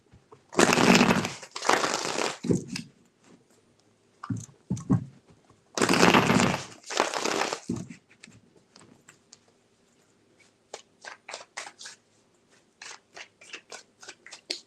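A tarot deck is shuffled up close in several loud papery bursts, two long riffles, a short one, then two more, followed by lighter taps and clicks as the cards settle.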